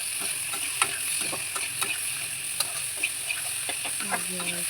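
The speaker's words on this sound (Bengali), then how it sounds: "আর এক মশলাটা তারপর ভাজা করে আলু দিচ্ছি" Potatoes tossed into hot spiced oil with ground coriander, turmeric and cumin for a thin tengra fish curry, giving a steady soft sizzle broken by sharp spoon-stirring clicks; no talking.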